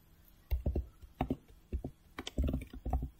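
Keys clatter on a computer keyboard as code is typed, quick irregular bursts of crisp close clicks separated by short pauses.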